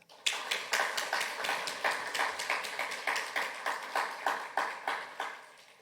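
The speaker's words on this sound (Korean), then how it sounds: "여러분 박수 한번 하겠습니다." An audience at a university chapel service claps in steady unison to welcome a visiting pastor, a crisp run of about twenty rhythmic claps with no talking over them.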